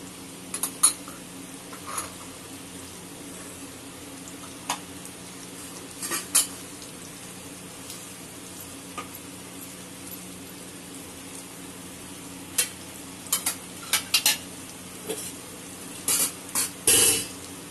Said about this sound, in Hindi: हमारा भुनने लगा है ये अच्छे से पकने लगे हैं टमाटर